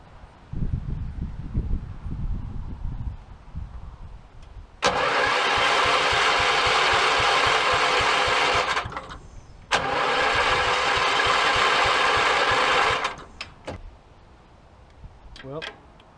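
A Gravely 20G garden tractor engine with carburetor trouble turns over and runs at full throttle in two sustained, loud bursts of several seconds each, separated by a short drop-off, with voices talking before and after.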